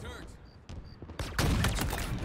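A sniper shot in an Xbox shooter game: a sharp, loud gunshot burst with a trailing echo, followed by dense, noisy game action, heard amid quieter ambience at first.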